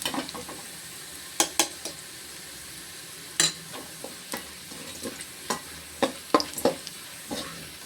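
Paneer masala with tomato and onion being sautéed in a pan: a steady low sizzle of frying with intermittent sharp scrapes and stirring clinks of a spatula against the pan, fairly close, no talking.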